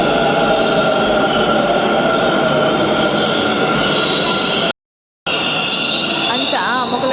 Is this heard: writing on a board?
no